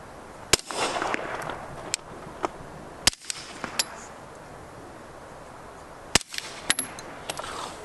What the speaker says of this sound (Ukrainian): Маю тут такий пістолет Glock 5 генерації з прибором безшумної стрільби, спеціальними набоями.